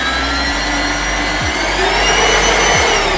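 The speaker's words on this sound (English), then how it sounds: "whenever you turn on the Black+Decker vacuum" A Black+Decker cordless vacuum cleaner whines loudly and steadily up close, its high motor tone holding constant with a couple of brief low thumps as it is handled.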